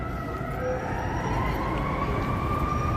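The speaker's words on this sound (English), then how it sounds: "Here comes the ambulance, it looks like." An ambulance siren wails with a rising and falling tone along a busy Chicago city street, steady and moderately distant over constant traffic rumble.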